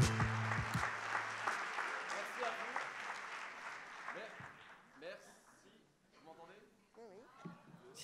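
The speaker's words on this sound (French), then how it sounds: "On peut les applaudir une dernière fois." Audience applause at a 2016 colloquium, a dense patter that starts strong and fades, mixed with voices.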